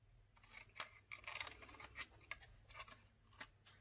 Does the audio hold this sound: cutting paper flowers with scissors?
yes